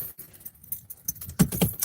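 A bunch of keys jangles up close with bright metallic rattles that grow louder toward the end, heard against quiet background noise and no talking.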